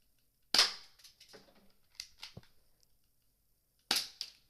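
An airsoft gun firing 6mm plastic BBs gives sharp, snappy cracks, a loud shot followed by a few lighter clicks and a second loud shot, close and with no talk.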